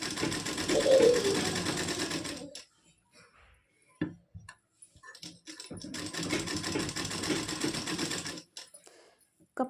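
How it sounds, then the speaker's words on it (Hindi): A sewing machine stitches a blouse sleeve with a close, steady whir in two runs of a few seconds each, separated by a pause with small handling sounds. "कपड़े को संभालना है और आधे इंच की सिलाई करनी है।"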